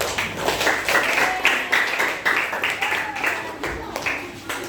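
A classroom of students applauds a group of classmates, with dense, steady clapping that carries on for about five seconds and rises and dips slightly in waves.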